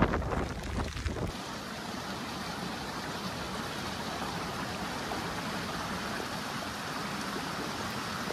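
Vadap waterfall near Bhivgad fort, a steady broadband rush of falling water heard up close, continuous and fairly loud with some wind buffeting at the start.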